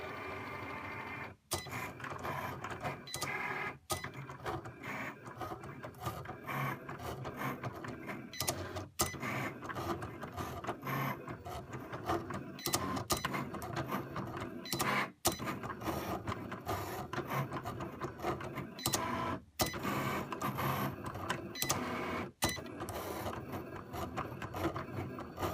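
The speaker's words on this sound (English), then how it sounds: "the Cricut machine should now be doing the cutting part of things" A Cricut Explore cutting machine cuts a card with a continuous mechanical whir and rasp, broken by short sharp clicks every few seconds. The sound runs steadily and close for the whole stretch.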